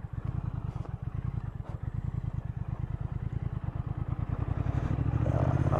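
A 2019 Triumph Thruxton R 1200 motorcycle being ridden, its engine thumping in a steady, rapid low pulse that grows louder and deeper toward the end as it pulls harder, close and without talk.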